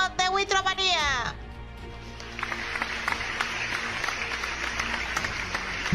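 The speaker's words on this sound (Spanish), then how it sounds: "Un aplauso para Oscar Huitrón de Huitromanía." Applause at an anniversary podcast award moment, a short clapping crowd sound entering after a brief tonal, voice-like passage at the start, continuing steadily and moderately loud to the end.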